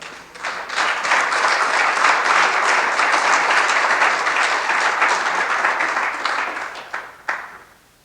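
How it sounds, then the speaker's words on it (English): Summit attendees give the Consul of Mexico, Alberto Fierro, a loud round of applause, a thick, even roar of clapping that swells, holds for about six seconds and tapers off with a few stray claps. "let's give a big round of applause to the Consul of Mexico, Alberto Fierro"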